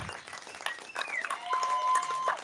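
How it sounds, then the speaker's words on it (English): Audience applause after a poetry reading, a steady wash of clapping from a crowd with a few whistles or cheers rising over it, moderately loud and continuous. "Another round of applause for the amazing poets that touched the microphone."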